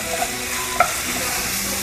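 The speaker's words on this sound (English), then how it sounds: "Stir it up." Chipotle ground beef is stirred and broken up in a hot pan, giving a close, loud sizzle with a single sharp scrape of the utensil.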